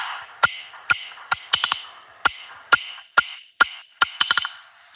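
Hammer blows ring out on hot metal during blacksmith forging, about a dozen sharp metallic strikes with short bouncing follow-up taps, close and loud in an uneven working rhythm with no talking.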